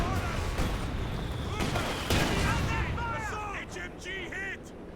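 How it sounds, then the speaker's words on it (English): Artillery fire and gunfire from the World War II strategy video game Company of Heroes 2, with scattered booms and bursts of shots against a dense battle background, moderately loud, with voices over it. "let's call in some artillery"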